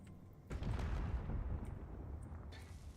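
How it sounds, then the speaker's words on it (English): A massive explosion goes off in a Mars base building video game, a deep rumbling boom that swells suddenly after a quieter start and then rolls on with low roaring debris, fairly faint, with no talk. "I just heard a massive explosion"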